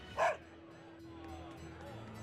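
A small dog in the video game Tales of Berseria gives one short, sharp yip near the start, followed by quiet background ambience with a low hum.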